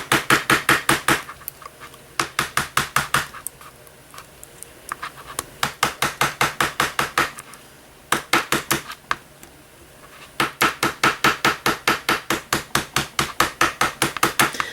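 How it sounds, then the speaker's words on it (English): Rapid bursts of light nylon hammer taps on a wire-wrapped ring in quick rhythmic runs, separated by brief pauses, close and crisp. "I'm going to hammer all around"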